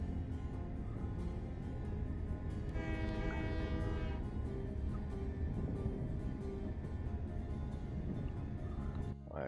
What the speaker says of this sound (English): See that train on the opposite track.